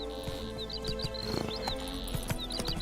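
Hooves of the horse Roach clopping along a road in The Witcher 3 on Xbox Series S, steady close footfalls with soft snorts and occasional high chirping birds in the background, no talk.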